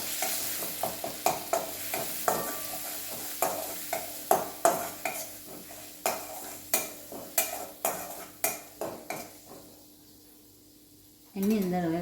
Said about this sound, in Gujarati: હવે આપણે થોડુંક સાંતળી લઈશું